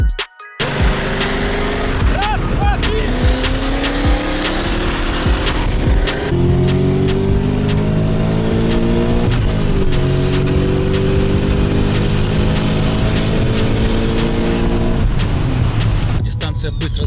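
Supercharged V8 cars, a BMW M5 E39 against a Cadillac 6.2, accelerate hard in a race, engine pitch climbing through repeated gear changes with loud, close, sustained roar and whine.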